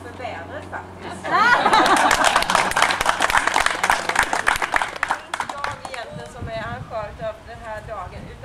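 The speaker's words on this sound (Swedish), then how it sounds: "Jag tycker vi ska börja med att ge Gull en stor applåd" A crowd at an outdoor community gathering for a project at Kronobäck in Mönsterås claps for Gull, with a burst of applause and chuckles after a short spoken introduction, then fading as a voice resumes talking.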